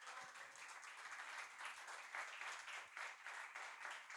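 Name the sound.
congregation applause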